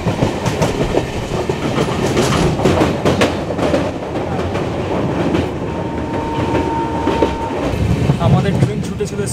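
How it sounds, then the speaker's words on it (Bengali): A Vistadome glass-roofed coach train runs through the Dooars forest and tea gardens, its steady wheel rumble and rhythmic clickety-clack loud and continuous, with a brief faint horn-like tone mid-way and occasional voices in the background. "আমাদের ট্রেন ছুটে চলেছে ডুয়ার্সের জঙ্গলের মধ্যে দিয়ে, চা বাগানের মধ্যে দিয়ে"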